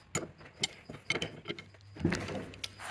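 A wrench tightens a hydraulic hose fitting on a Bobcat mini excavator's auxiliary line, giving a quiet series of close metallic clicks and ratcheting ticks in an irregular rhythm over about three seconds.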